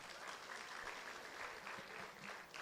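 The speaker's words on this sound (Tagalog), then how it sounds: "Palakpak naman dyan" A congregation claps at a church sermon, a steady wash of applause with no clear voices, heard faint and at a distance.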